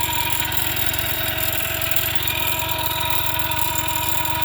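A car engine idling just after a starter replacement, giving a loud, steady drone with a fast rhythmic rattle running through it, close and constant.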